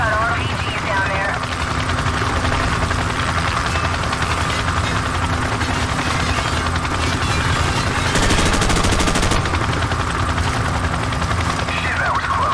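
Gunfire in Call of Duty 4: Modern Warfare, sustained and loud through a dense battlefield mix, with a louder burst partway through and a voice talking over the din.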